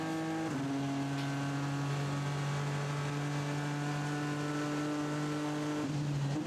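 Fast prototype race cars at the 2017 24 Hours of Le Mans roar past in a steady, loud engine drone with sustained pitch through the run and a shift near the end; no talk.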